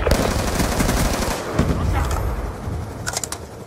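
Rapid automatic gunfire in Call of Duty: Black Ops 2 multiplayer, loud and close, with dense bursts of shots running through the whole stretch under in-game radio chatter and voices.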